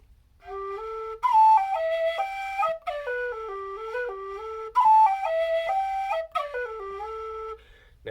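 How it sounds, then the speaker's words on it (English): A tin whistle in G plays a run of clear, sustained notes in short melodic phrases with brief gaps, close and fairly loud, with no other sounds. "I can use my G whistle and start down here on the G."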